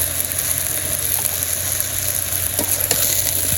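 Vegetables sautéing in a pan with salt, chili powder and turmeric powder: a continuous close sizzle and hiss with occasional soft stirring scrapes, no talking.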